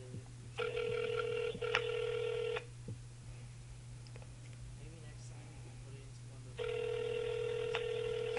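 Ringback tone while calling a GameStop store, two steady rings about two seconds long separated by a pause, under a low electrical hum, with faint voices and clicks.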